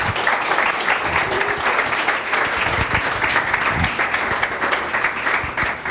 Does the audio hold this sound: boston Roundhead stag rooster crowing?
no